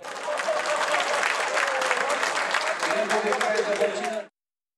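Applause in the Korean National Assembly, a sustained wash of many hands clapping at steady loudness that ends abruptly, with cheering and voices mixed in toward the end.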